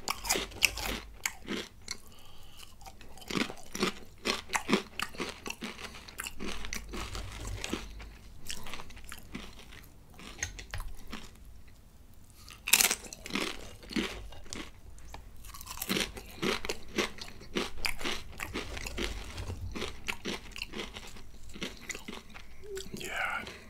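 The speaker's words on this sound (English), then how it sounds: "this reminds me of those, you know, taco chips." Crunchy healthy chips, similar to taco chips, bitten and chewed close up in a steady run of crisp crunches and chewing, with faint talk now and then.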